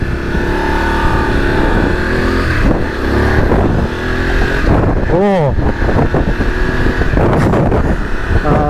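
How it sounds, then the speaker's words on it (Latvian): A Voge DS900X motorcycle with a 900cc engine accelerates hard in sport mode, its engine note loud and close, rising and dropping through revs with sharp sweeps, while a rider's voice calls out over it. "900 kubikcentimetru motors, sporta režīmā, ļoti forši."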